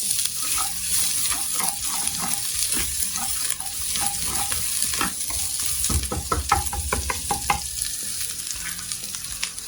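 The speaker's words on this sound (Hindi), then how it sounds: "थोड़ा सा लहसुन अदरक को इसमें सौते कर लेंगे" Ginger garlic paste sautéing in hot oil, with red chili flakes added, gives a continuous close sizzle with crackles and a burst of sharp pops and stirring clinks partway through, no speech.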